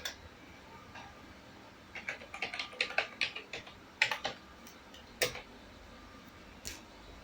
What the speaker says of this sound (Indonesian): Ini di copy saja nama aplikasinya, shift ctrl V, enter.